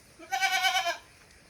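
A large crossbreed goat gives a single drawn-out bleat, close and clear, rising out of quiet and fading after about half a second.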